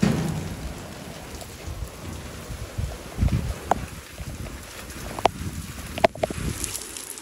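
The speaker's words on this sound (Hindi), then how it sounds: "बहुत ज़्यादा बारिश आ चुकी है" Heavy rain pours steadily in a Pakistani village after a dry, sunny spell, a dense hiss with a few sharp drip or knock sounds scattered through it.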